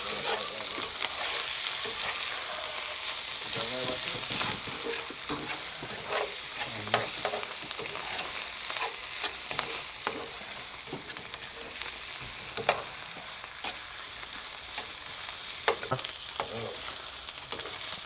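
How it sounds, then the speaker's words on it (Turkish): Oyster mushrooms fry in a pan with a continuous crackling sizzle and scattered sharp pops and stirring scrapes, steady and close throughout with no talk. "Of kızarmaya başladı Ömer abi."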